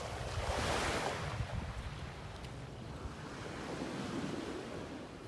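Ocean surf washes continuously onto an eroded beach in North Naples, Florida, a steady broadband rush that swells loudest early on and then settles into a constant wash, with some wind noise on the microphone and no voices.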